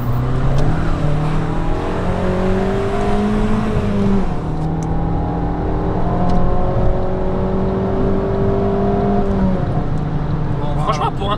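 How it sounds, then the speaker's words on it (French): A 1.4 litre car engine with a remap is heard from outside the car, a loud droning exhaust rising and falling in pitch through steady revving, with people talking over it. "de dehors, ça gueule beaucoup plus que d'intérieur de la voiture"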